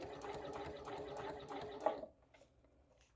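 A sewing machine stitches a pencil case seam in a quick, rapid, even run of needle strokes for about two seconds, then stops. A few faint clicks follow in the near quiet.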